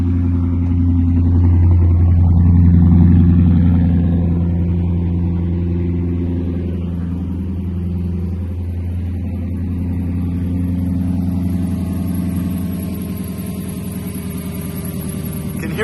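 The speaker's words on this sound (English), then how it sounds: "You can hear that little squeak going on in there." A Lexus LS460 engine idles with a steady low rumble, a faint high squeak from a belt running along on top of it throughout.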